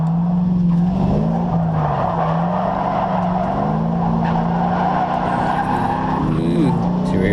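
Drift car engine hitting fuel cut, a loud steady drone that stutters and dips as the power cuts out, with tire noise and light skidding throughout.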